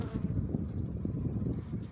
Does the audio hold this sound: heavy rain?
no